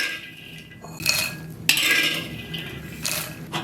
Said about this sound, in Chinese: 把花生米炒香以后舀出来